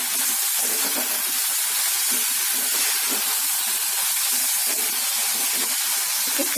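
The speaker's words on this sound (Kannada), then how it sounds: "ಆಲೂಗೆಡ್ಡೆ ಹಾಕ್ಬಿಟ್ಟು ಹಾಗೇನೆ ಉಪ್ಪು ಮತ್ತೆ ಅರಿಶಿನ, ಕರಿಬೇವಿನ ಸೊಪ್ಪು 1 ನಿಮಿಷ ಆಲೂಗೆಡ್ಡೆ ಫ್ರೈ ಮಾಡಿ" Potatoes frying in a pan with salt, turmeric and curry leaves, giving a steady close sizzling hiss that runs evenly the whole time with no voices.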